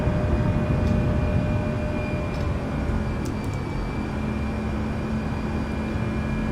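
Airliner jet engines at climb thrust just after takeoff, a steady broad roar with faint tonal whine, continuous and loud throughout with no talk.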